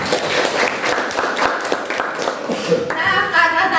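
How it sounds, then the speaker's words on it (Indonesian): Classroom audience in a school applauding, a dense wash of hand clapping from many people that carries on for several seconds, with a voice speaking over it near the start. "Tepuk tangan dulu untuk kita semua."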